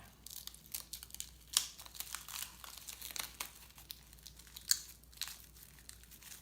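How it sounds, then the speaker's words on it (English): Plastic wrap peels off the back of a homemade spackling-compound shade bracket in a quiet series of close, irregular crinkles and small tearing crackles, with sharper pops now and then. "I'm going to take off the plastic wrap off the back of this first"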